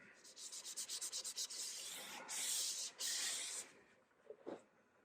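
Mineral oil rubbed by hand into a nitrocellulose lacquer finish: quick rhythmic back-and-forth strokes, then longer, broader swipes of friction, close and fairly quiet, ending with a brief soft knock.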